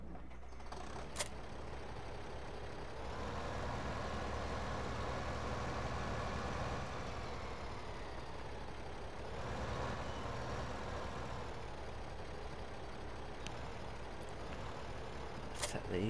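A tractor engine idles steadily in Farming Simulator 15, a constant low rumble that shifts pitch slightly as it revs around the 3 and 9 second marks, with faint clicks near the end.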